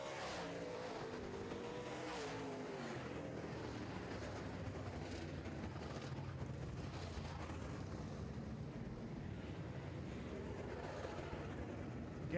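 Modified race cars racing around a racetrack in a feature event, a continuous roar of engines at a distance with a broad, steady wash of noise throughout.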